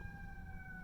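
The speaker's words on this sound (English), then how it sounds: "I can see the ambulance coming now." An ambulance siren sounds steadily at a distance, its sustained wailing tone held clear and unbroken above a low rumble of background noise.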